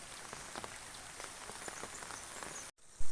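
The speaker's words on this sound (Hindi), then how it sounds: "पूरी बारिश लगी हुई है" Steady heavy rain in a mountain village patters densely on a surface nearby, a constant hiss with scattered louder drops, cutting out abruptly near the end.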